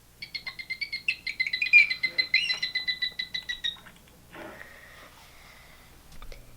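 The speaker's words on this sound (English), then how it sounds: "Here's what a bottlenose dolphin sounds like." A bottlenose dolphin gives a fast run of about twenty rhythmic high whistling chirps and clicks, close and fairly loud, then a brief softer burst of breathy noise after a short pause.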